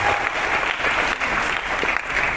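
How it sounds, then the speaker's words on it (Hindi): Loud, dense applause from an audience honoring the women at a direct-selling event, steady clapping filling the whole stretch with no pause. "जोरदार तालियां इन फीमेल्स के लिए बजा सकते हैं, जोरदार तालियां"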